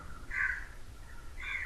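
A crow caws outside, two short harsh calls about a second apart, moderately distant and clear over a low background hum, with no talking.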